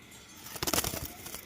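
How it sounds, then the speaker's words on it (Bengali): Soft cooing from a pair of pigeons kept for sale, low-flying 'bazi' birds, with a short cluster of throaty coos after a quiet start, fairly faint and close by. "দারুণ কবুতর"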